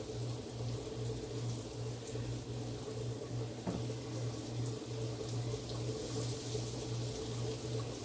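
Water runs steadily from a kitchen tap as flour-covered hands are rinsed at a sink, a continuous close hiss with a low hum underneath throughout.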